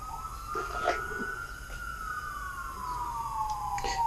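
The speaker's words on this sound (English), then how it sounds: "What is going on out there? A lot of emergency vehicles." Emergency vehicle sirens pass outside a motorcycle workshop in Buffalo, New York: a single wailing tone slowly rises and falls across the whole stretch, moderately distant and muffled, with faint scattered clatter nearby.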